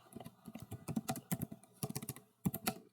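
Rapid, irregular keystrokes on a computer keyboard while C++ code is typed, with close, crisp clicks in uneven bursts and no talking.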